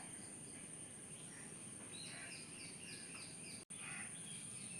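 A bird gives a short run of faint, repeated chirps over a constant high insect trill outdoors.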